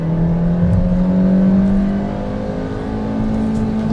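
Nissan March with a 1600 engine accelerating hard at full throttle in first gear. The engine note climbs close and loud toward high revs, then falls with a brief dip partway through before pulling again.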